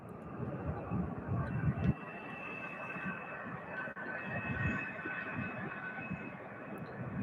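A UPS Airbus A300 taxiing quickly at UPS Worldport in Louisville, heard as a continuous rushing rumble with a faint high engine whine. A brief dip comes partway through.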